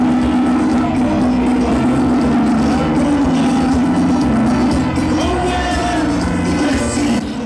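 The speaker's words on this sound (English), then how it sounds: "Many people thronged Gumua Benso for the rally." A large outdoor crowd gathered for a political rally in Gumua Benso roars continuously, a dense loud wash of voices and cheers with occasional shouts, sustained throughout.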